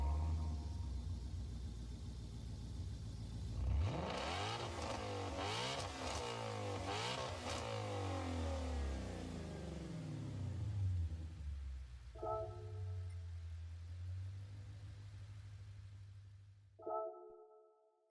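An engine revs hard in Gran Turismo 7, climbing and dropping through repeated sharp surges, then settles into a lower drone. Two brief tonal chimes follow before it cuts off.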